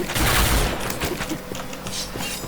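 Shotgun fire in the video game Point Blank: a rapid run of loud, sharp blasts that crowd together into a near-continuous volley, with the heaviest burst at the start.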